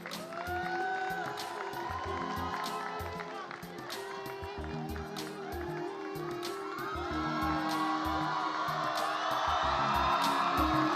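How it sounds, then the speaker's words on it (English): A crowd applauds and cheers for a contestant at the Mister and Miss National 2025 grand finale pageant, a steady wash of clapping and whoops under music and voices that swells louder toward the end. "a huge round of applause for Mr. Smith Tamang"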